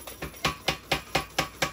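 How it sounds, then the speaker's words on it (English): Power hammer forging a steel round bar into a spear-like tip, a fast steady series of about eight sharp metallic blows in a regular rhythm, loud and close with no talking. "Work one side and then the other in the power hammer."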